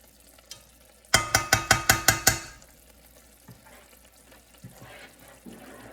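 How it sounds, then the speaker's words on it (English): Meat stock poured into a pot of jollof rice: a loud, brief burst of splashing and sizzling with a quick rhythmic pulsing, then quieter kitchen clatter and faint handling noises. "now is the time, excuse me, that I'm going to add the meat stock"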